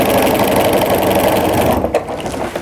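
A home sewing machine fitted with a walking foot quilts a jelly roll tree skirt with a loud, close, continuous rapid mechanical whir, then slows and stutters to a stop near the end.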